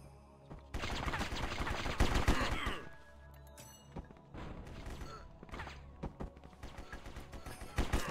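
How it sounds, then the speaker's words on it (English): Rapid bursts of automatic fire from an assault machine gun in the War Brokers shooter, set in Dead End City, with dense rattling volleys, brief pauses and a final flurry. "got my assault machine gun back"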